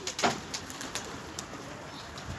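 Pigeons coo softly in a steady wash of background noise, with a slightly stronger burst near the start and low calls scattered through.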